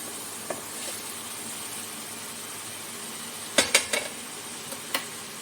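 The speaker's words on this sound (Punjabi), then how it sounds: "ਸਾਰੀ ਅਰਬੀ ਅਸੀਂ ਹੁਣ ਵਿੱਚ ਪਲਟ ਦਵਾਂਗੇ" Fried arbi (taro) is tipped into a pan of masala and stirred: a soft background sizzle broken by a few sharp scrapes and clacks of a utensil against the pan, clustered near the end.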